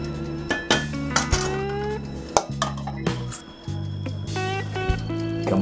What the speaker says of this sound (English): now I'm gonna add in some shrimp